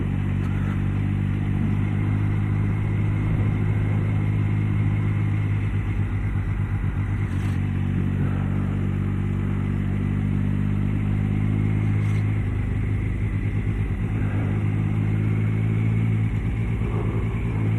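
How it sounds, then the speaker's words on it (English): A scooter engine hums steadily nearby for the whole stretch, its low drone rising and falling slightly as it passes, with faint clatter over a constant background rumble and no talk. "Wave to the guy on the scooter."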